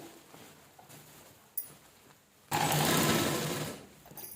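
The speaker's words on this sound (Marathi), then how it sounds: "व्यवस्थित असं ठेवून स्टिच करून घ्यायचं" A sewing machine stitches old saree fabric, starting with brief quiet taps and then a loud, fast, steady whirring run lasting about a second and a half before slowing.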